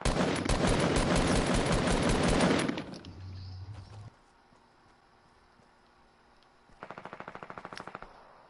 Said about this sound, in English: Big gunshots.